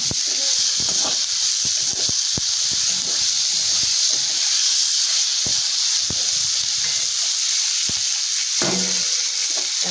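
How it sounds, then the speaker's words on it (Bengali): Chopped tomatoes sizzle in hot oil with fried onions while being stirred, with a bright steady hiss broken by irregular scraping and clinking of the spatula, close up and with no speech. "টমেটো কুচি দিয়ে একটু নাড়াচাড়া করবো"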